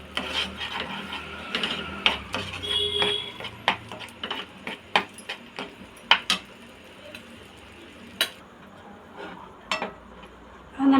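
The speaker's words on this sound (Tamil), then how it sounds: "இந்த மசாலாவும் இந்த வெங்காயம் தக்காளி பேஸ்ட்டு நல்லா மிக்ஸ் ஆகிற அளவுக்கு கிண்டி விட்டுக்கோங்க" A spoon scrapes and taps in a pan while masala is stirred into onion-tomato paste for egg chukka. The clinks and scrapes come close, irregular and fairly loud, then thin out to sporadic knocks.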